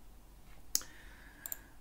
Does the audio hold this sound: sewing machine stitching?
no